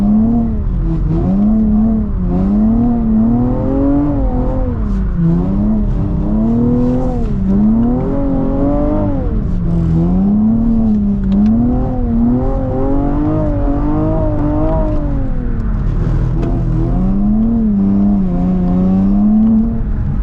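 Drift car engine revving in waves as it rev-matches automatically, a loud, continuous, wavering note rising and falling with each shift throughout, heard from inside the car.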